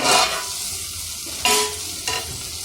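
Sliced onions and a green chili sizzling in a pan, with a soft steady fry broken by three sharp bursts of stirring or scraping.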